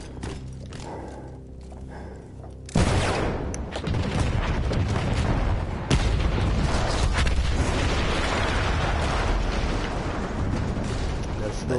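A loud explosion in a PS4 war video game bursts in abruptly and settles into a sustained, rumbling roar of debris and fire that stays strong to the end, with a second jolt partway through.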